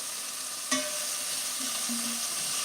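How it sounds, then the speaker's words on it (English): Beef browning in a pot for beef and barley soup, with a steady sizzle and a sharp clank of a spoon stirring near the start, followed by a few soft scrapes. "So I'm going to give it a quick stir"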